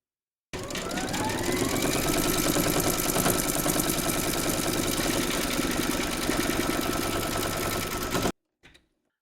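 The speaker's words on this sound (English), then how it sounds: "Pop your hoop into your machine and stitch round number 12" An embroidery machine stitches lining fabric held in a hoop, giving a loud, steady, rapid mechanical chatter that runs for about eight seconds and then stops abruptly, with no talking.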